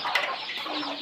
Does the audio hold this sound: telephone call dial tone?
no